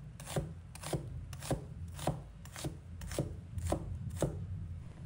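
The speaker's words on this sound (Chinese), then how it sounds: "再取拌的洋葱，把它切成细丝，切的时候动作要快" A knife chops onion into thin strips on a cutting board, with about ten evenly spaced sharp thuds arriving quickly at a regular rhythm, close by and moderately quiet, with no talking.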